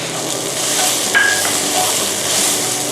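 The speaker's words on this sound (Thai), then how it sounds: "ผัดเครื่องต่างๆนะคะ ให้เข้ากัน" Thai curry paste is stir-fried in a pan with green peppercorns and krachai, giving a steady, close sizzle with a soft scrape of stirring and one brief bright clink partway through.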